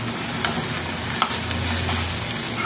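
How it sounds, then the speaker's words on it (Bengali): Bitter gourd (karela) sizzling in a pan as it is fried dry without a lid, a steady close hiss with occasional stirring scrapes. "হালকা একটু ভাজা ভাজা করতে হবে এটাকে"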